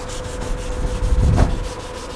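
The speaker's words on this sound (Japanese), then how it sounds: "今ペーパー掛けしていただいてるんですが" Hand sanding of a yellowed, weathered headlight lens on a Chevrolet TrailBlazer with sandpaper, a close, steady rasping rub that swells briefly in the middle before settling back to a soft scrubbing.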